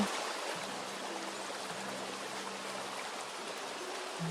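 Running water pours loudly and steadily, a broad hissing rush that fills the whole stretch, with a faint low hum beneath it.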